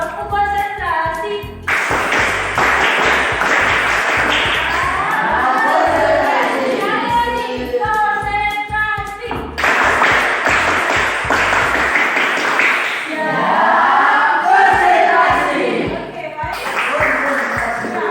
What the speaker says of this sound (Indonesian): Kita coba tepuk konsentrasi dulu